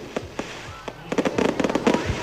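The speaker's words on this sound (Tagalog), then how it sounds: "napawaw at namangha ang mga nagtipon-tipong Tagumenyo sa nasaksihan nilang fireworks display sa kanilang" Fireworks display at a city hall celebration in Tagum: rapid sharp bangs and crackles, sparse at first and then clustered into a dense crackling burst, with a faint voice underneath.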